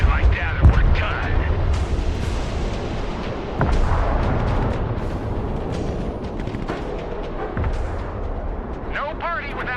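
A-10 strikes in the war game Broken Arrow set off a dense, continuous barrage of booming explosions and gunfire, loud and layered, with a voice talking over the battle noise.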